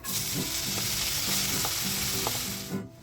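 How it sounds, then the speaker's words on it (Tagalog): Onions sautéing in a pan just used for cooking salmon, giving a loud continuous sizzle with a few soft stirring scrapes, close up, before the sound cuts off at the end. "And now using the same pan, guys, let's saute our onions."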